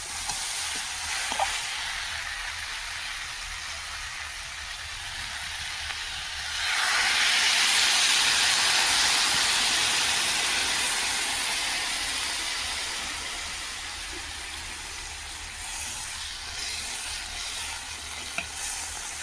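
An egg frying in a hot pan: a steady, close sizzle and hiss that swells louder partway through, with faint stirring and scraping and no voices.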